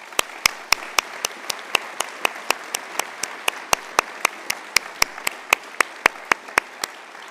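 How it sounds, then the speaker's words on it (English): Claps at a University of Galway winter conferring ceremony, a single pair of hands clapping in an even, steady rhythm, sharp distinct strikes repeating for several seconds with quiet room tone between. "with a warm round of applause"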